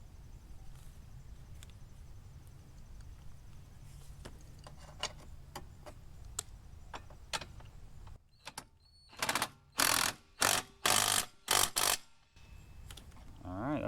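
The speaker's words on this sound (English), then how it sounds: "And we'll tighten this up by hand a little bit." Hand-tightening the rear axle bolt on a Razor MX500 electric scooter fitted with RSF 650 wheels, with scattered light clicks, then a run of louder, evenly spaced metallic ratcheting clicks close by, no speech.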